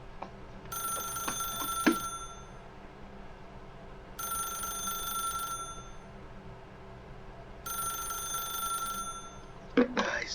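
In The Stanley Parable: Ultra Deluxe, a telephone rings in three long, even bursts separated by pauses, loud over a low background hum, with a few faint clicks between rings.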